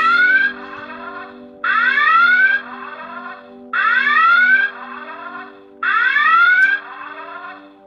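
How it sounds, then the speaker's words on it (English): A Playmates Star Trek U.S.S. Enterprise NCC-1701 toy, 2022 reissue, sounds its red alert: four loud, rising electronic whooping blasts in an even rhythm, each followed by a short pause, with no talk. "There's the red alert."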